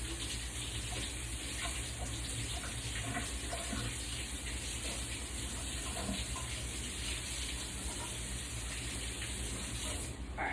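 Tap water runs steadily in a kitchen sink while food is rinsed under it during soup making, a continuous broadband rush that stays even and fairly loud throughout with no talking.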